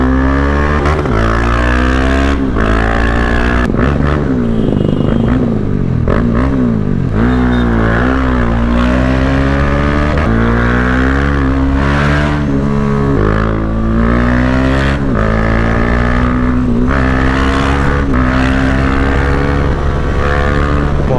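A Bajaj Dominar motorcycle fitted with an Akrapovic R1M exhaust revs loudly and steadily up close, its engine note rising and falling through repeated throttle blips without pause.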